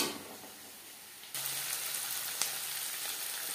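Spices fry in oil in a pan over a low flame for fulkopir data chochori, a steady hiss that jumps louder partway through and carries on close and even, with no talking.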